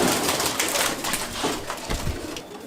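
Madrasi pigeons coo softly in a loft, giving a few low, throaty calls against a faint, rustling background, with no talking.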